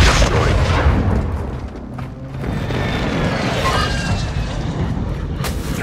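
An airstrike explodes in the video game Call of Duty Warzone, a loud, sustained roaring boom with a dense, rumbling body that dips briefly, then rolls on heavily for several seconds.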